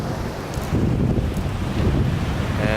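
Wind and Atlantic Ocean surf at the shore of Long Beach, New York, on a February evening; loud gusts buffet the microphone over a continuous roar of breaking waves, with no talking.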